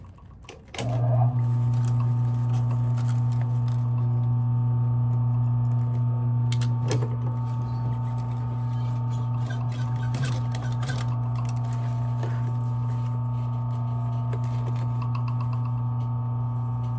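A sewing machine stitches around a Chanel jacket lining: a steady, even motor hum with a fast mechanical needle rhythm starting after a second and running continuously at moderate loudness, with faint clicks and no talk.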